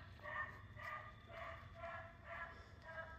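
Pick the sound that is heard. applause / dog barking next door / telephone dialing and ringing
dog barking next door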